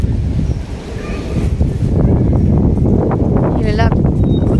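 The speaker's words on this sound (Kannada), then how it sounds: "ರಿವರ್ ಹತ್ರ ಇದೀವಲ್ಲ, ಹಾಗಾಗಿ ಸ್ವಲ್ಪ ಗಾಳಿ ಇನ್ನೊಂದಿಷ್ಟು ಜಾಸ್ತಿ" Wind gusting beside the River Thames at Thames Barrier Park, a steady low roar and buffeting across the microphone, with rustling and brief faint sounds over the top.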